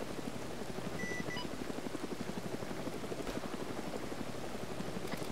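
Steady, rhythmic rotor thump of a helicopter in Arma 3, loud and continuous with a few faint beeps over the drone.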